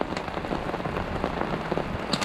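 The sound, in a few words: rainstorm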